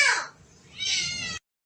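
A house cat gives two short meows, the first bright and falling, the second a longer, higher-pitched call after a brief pause, close and clear with nothing else around it.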